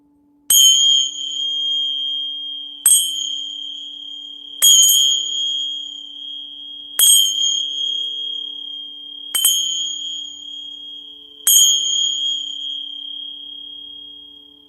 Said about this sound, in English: I'm going to use the bells to open the reading